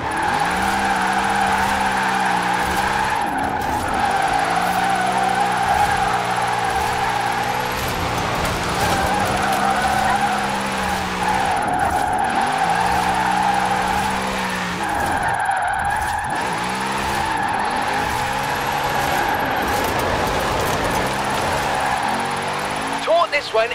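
Formula Drift car with extreme steering angle sliding in Forza Horizon 4, continuous squealing tires and a revving engine that rises and falls through long drifts, with someone talking over it throughout.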